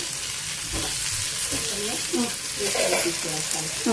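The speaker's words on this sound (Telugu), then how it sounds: "కొంచెం వెల్లుల్లి ఇట్లా దంచేసుకొని వేసుకోండి" Crushed garlic sizzles with brinjal curry in a pan, a steady frying hiss with spoon stirring, while a voice talks faintly in the background.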